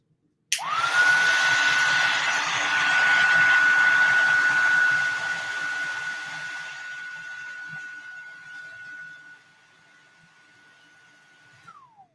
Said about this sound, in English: I'm going to heat emboss, so it's going to be a little noisy.